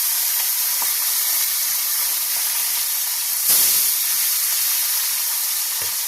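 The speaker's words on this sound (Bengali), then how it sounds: "এবার আরেকবার মাছটা ভাজছি। তো মাছগুলো কিন্তু একটু লাল লাল করেই ভেজে নেব।" Fesa river fish fry in a pan, Bengali style, giving a continuous loud sizzling hiss with a brief sharper burst partway through.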